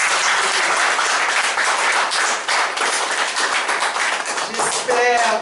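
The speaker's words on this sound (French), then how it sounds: "Et je demande à l'Assemblée d'applaudir." A church congregation at a Sunday worship service claps together in a loud, continuous burst of applause, close and full, with a few voices and a brief musical tone emerging near the end.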